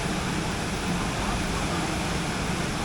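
Water rushes and splashes continuously on a rapids boat ride at a safari theme park, a loud, dense, steady roar with possible faint crowd talk beneath.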